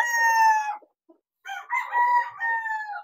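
A young bull stag rooster crows nearby, one loud crow followed after a short gap by a second, longer crow.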